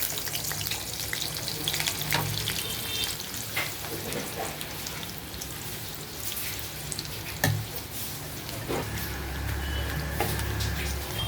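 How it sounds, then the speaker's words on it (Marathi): Steady sizzling of onions frying in hot oil in a kadhai, a continuous crackly hiss with a few louder pops and faint clatter, no voices. "कढई गरम करून तेल टाकलं त्याचं आता आपण कांदा फ्राय करणार आहे"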